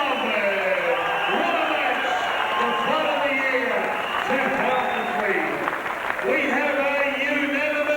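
A boxing crowd applauding at a 2003 fight, with dense, continuous clapping and cheering close by under a ring announcer's voice.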